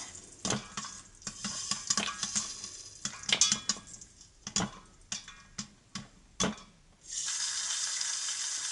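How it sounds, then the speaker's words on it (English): Popcorn bursts inside an Instant Pot with sharp, irregular pops, some close together and some spaced out, fairly loud and close, before a steady sizzling hiss takes over at the end. "So it started popping."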